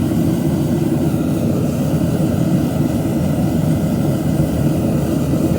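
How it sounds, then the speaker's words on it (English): Gas forge burner jet roaring steadily at close range, a loud continuous broadband rush that stays even throughout with no talk. "as you can see, the jet to the forge is burning"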